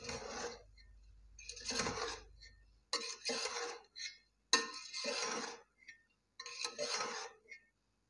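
Chicken fried rice tossed with masala in a pan, heard as bursts of metallic scraping and clinking from a spoon against the pan, separated by short pauses, fairly close and with no talk.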